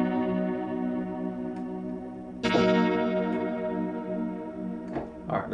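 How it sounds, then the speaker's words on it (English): Keyscape virtual keyboard plays a chord progression for a Maschine 2 beat, with warm sustained chords and a strong new chord struck midway, plus lighter attacks later, effected and slightly echoing, no speech. "Starting off with Keyscape."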